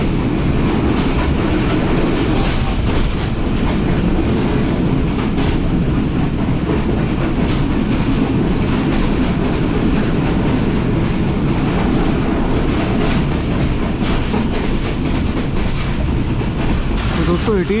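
The Karachi Express passenger train rolls along on a winter journey, heard from inside a coach as a loud, constant rumble with rattling and wheel clatter, unbroken throughout.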